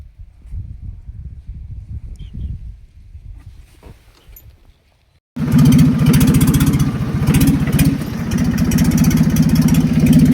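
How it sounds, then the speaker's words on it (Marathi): A tractor engine running. Quiet low rumbling gives way to a sudden loud, close, steady chugging drone with a rapid pulsing beat that holds for the remaining five seconds. "ट्रॅक्टर घेऊन चाललोय ओढायला त्याला"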